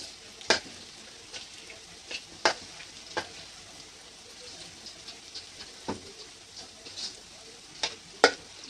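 Ground masala paste sautés quietly in a pan, a soft continuous sizzle broken by a few sharp spatula scrapes and clicks spaced irregularly, close but low in level.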